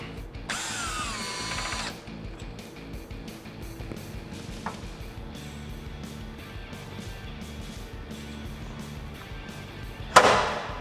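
A power tool with a 10mm socket spins bolts out of a Jeep Wrangler JLU Rubicon's suspension during a SkyJacker lift kit install. It gives short whirring bursts, loose ratcheting rattles and a sharp metallic clank near the end, with no talking.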